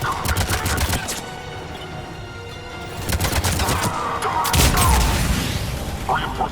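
Gunfire strikes a pod during a firefight in Mass Effect 3 on PS5, coming as repeated loud crackling bursts in several clusters over a busy bed of game noise.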